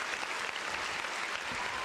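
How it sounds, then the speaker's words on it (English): A short burst of dense applause and clapping from a group, steady and close throughout with no gaps. "Round of applause to you guys."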